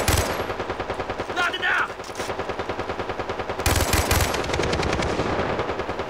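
Rapid, sustained bursts of a Vector submachine gun firing in Far Cry 3 multiplayer, loud and close with a fast even rattle, briefly broken near the middle and resuming heavier, while a player talks in the background.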